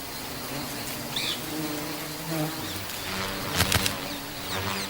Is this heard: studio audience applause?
no